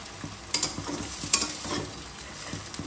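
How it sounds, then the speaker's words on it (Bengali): Onions frying in a pan for a Gondhoraj lemon-chilli chicken dish, a low steady sizzle broken by a couple of sharp stirring clatters near the start and middle. "সেই জন্য আমি এটার মধ্যে পেঁয়াজটা ভেজে নিলাম।"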